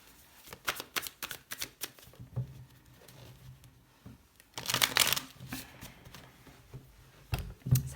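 Tarot cards shuffle in quick riffled bursts and soft patters, close and quiet, with a louder flurry in the middle and pauses between bursts.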